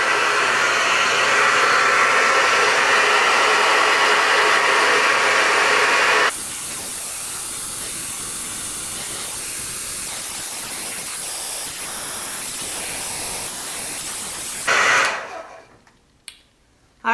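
A hair dryer with a diffuser blows on high, cool air as a loud, steady rushing hiss that drops to a lower setting partway through, then winds down and cuts off near the end.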